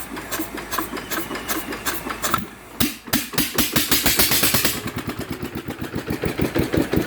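Yanmar TF 115 single-cylinder diesel, upgraded to 150, is started by hand crank and settles into a steady, rapid thumping idle, loud and close, after a brief pause at the start.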